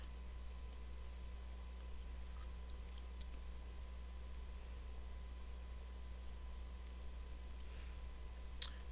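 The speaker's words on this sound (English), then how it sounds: "Click." Sharp computer mouse clicks scattered through a quiet room over a steady low electrical hum, a few crisp taps standing out near the end, with no talking, while colouring artwork in Adobe Illustrator.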